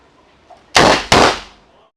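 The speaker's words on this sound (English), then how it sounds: "When the light comes on, you grab the gun, fire at the target." Two sharp, loud shots from a fast-draw gun fired at a target come in quick succession, close and cracking, each tailing off in a short echo in an otherwise quiet moment.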